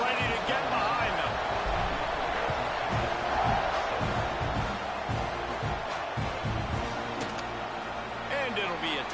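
Stadium crowd noise in a college football video game, Texas A&M hosting Texas Tech before a kickoff, a steady loud roar of fans under continuous play-by-play commentary throughout.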